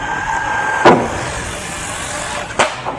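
An MJX Hyper Go brushless 3S LiPo RC truck runs at full throttle outdoors, a steady high-pitched motor whine with two short sharp bursts as it speeds past; no talking.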